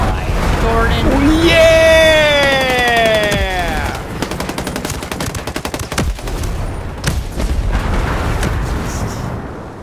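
Rocket launch and blast in the video game Ghost Recon Breakpoint: a rising whoosh tone builds for about three seconds before a burst of loud, rapid cracking gunfire and explosive impacts, with people talking over it.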